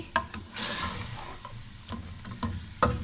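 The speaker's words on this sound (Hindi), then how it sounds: "इसको अच्छे से मिक्स करूँगी और इतने टाइम तक इसको पकाऊंगी कि योगर्ट" Beef karahi with yogurt being stirred in a pan, a soft sizzle running throughout while a spoon scrapes and clinks in a few short bursts, close by and moderately quiet, with no talking.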